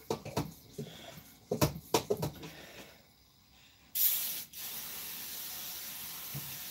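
A few handling clicks and taps are followed by a sharp hissing spray burst, then a longer continuous spray hiss close by.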